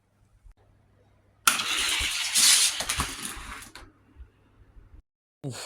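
A Ford race car engine in a racing video game roars to life and revs loudly for about two seconds, then drops away, with brief clicks and a short burst of sound after a quiet gap.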